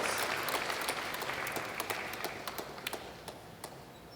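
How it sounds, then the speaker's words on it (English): Warm applause from a university convocation audience honouring graduates, a broad wash of clapping that slowly fades, leaving a few distinct individual claps at the end. "Please give them both a tremendous round of applause."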